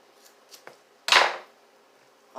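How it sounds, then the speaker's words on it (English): Scissors snip through the fat of a well-done grilled New York strip steak: one sharp, close cut, with a few faint small clicks just before it. "we're going to cut through that fat with scissors."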